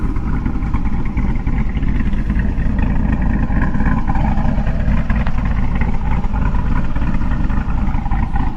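A 408 cubic inch LS V8 fitted with a Summit Racing Pro 8722R1 cam runs with a loud, close, steady rumble that holds without a break.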